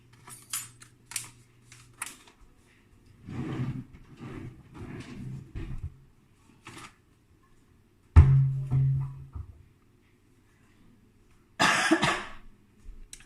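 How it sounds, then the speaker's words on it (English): Someone coughs and clears their throat while cooking curry, with a few scattered bursts spread across the stretch, close and fairly loud, amid kitchen clinks. "I'm coughing because of allergies."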